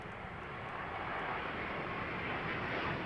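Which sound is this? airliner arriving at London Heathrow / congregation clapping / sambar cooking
airliner arriving at London Heathrow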